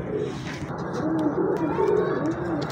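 Golden pigeons coo in low, rolling phrases close by, repeated several times over a busy background with some faint voices.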